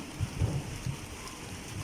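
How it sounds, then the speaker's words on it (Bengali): Rain falls on the tin roof of a nearby house as a faint, steady patter with a few soft, low thuds, and no voices. "এই যে আমাদের পাশে একটা টিনের ঘর ওই টিনের চালের উপর বৃষ্টির"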